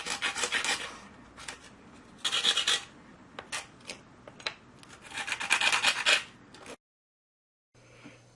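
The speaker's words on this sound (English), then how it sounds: "Then I'll use the sanding block again to make a radius on each corner." Short bursts of scratchy rubbing as a sanding block rounds the corners of a wooden board, close and uneven, with quieter gaps between strokes and a sudden silence near the end.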